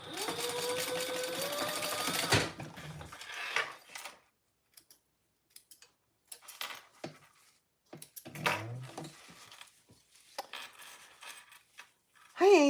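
A sewing machine stitches a fabric bag in a steady mechanical run for a couple of seconds, then stops, followed by scattered clicks, handling and small rustles at close range.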